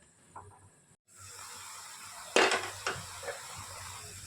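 A lid goes onto a cooking pan of cauliflower over lowered heat, landing in a short bright clatter followed by a few softer metallic taps, close by and alone after a quiet start.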